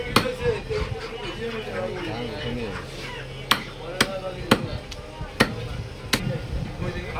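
Sharp, heavy chops on a 4.5 kg chicken at a busy Fulltala bazar stall, about six loud cleaver strikes landing at uneven intervals over steady crowd chatter and nearby voices.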